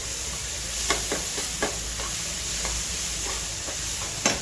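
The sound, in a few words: ridge gourd frying and being stirred with salt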